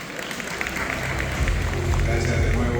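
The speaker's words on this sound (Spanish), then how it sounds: "Un aplauso para el doctor" Audience at a medical conference on robotic ICSI and assisted reproduction breaks into applause for a doctor, clapping swelling steadily while a speaker talks over it.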